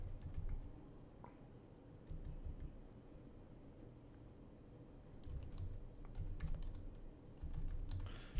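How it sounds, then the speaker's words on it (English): Fingers tap steadily on a computer keyboard while someone builds a Laravel blog, producing quiet, continuous clicking in short bursts over a low background hum, with no voices. "I'm typing worse and worse as we go on."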